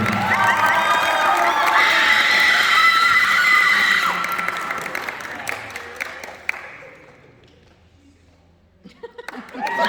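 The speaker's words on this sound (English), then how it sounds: "So a round of applause for them real quick." Applause and cheering from an audience at a high school band banquet awards ceremony, a loud, dense crowd roar with whoops for about four seconds that then fades to scattered claps before rising again.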